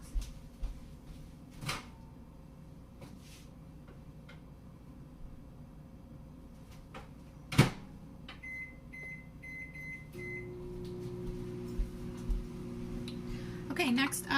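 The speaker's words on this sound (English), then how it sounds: "it says to microwave it for 6 to 8 minutes." A microwave oven door thuds shut, then beeps sound and a low steady hum of the running microwave heating enchiladas begins, faint and close.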